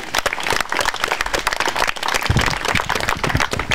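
Loud, sustained applause from an audience welcoming tennis players at a demonstration match in Fonyód, many hands clapping densely and continuously throughout, close and full with no speech over it.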